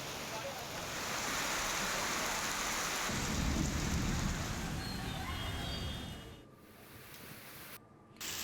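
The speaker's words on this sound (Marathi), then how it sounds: "रत्नागिरी जिल्ह्यामध्ये दापोलीत जोरदार पाऊस झालेला आहे" Heavy rain pours in Dapoli, Ratnagiri, a dense, loud roar with deep thunder rumbling underneath midway, then the downpour thins and cuts away abruptly near the end.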